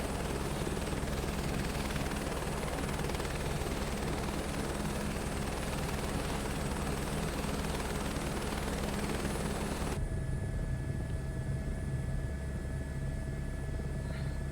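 Helicopter engine in Microsoft Flight Simulator 2024, a steady dense whirring drone with a high whine, loud and unbroken for about ten seconds before dropping to a quieter idle hum; no talk.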